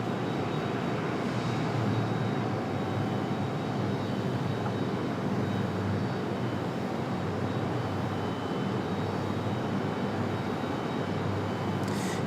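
A passenger jet arriving from JFK at Raleigh-Durham International Airport, a steady, broad engine roar that holds at an even level throughout, heard from a distance outdoors with no talking.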